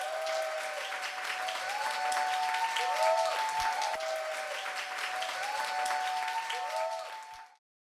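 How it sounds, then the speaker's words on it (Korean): Sustained applause fills a church service as a guest pastor is welcomed, dense clapping from a congregation that holds steady, with a sustained tone ringing through the hall before the clapping cuts off abruptly near the end. "더 큰 박수 부탁드리겠습니다."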